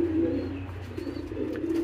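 Chulli pigeons coo in soft, low, continuous murmurs close by, a steady droning call with a few faint chirps over it and no talking.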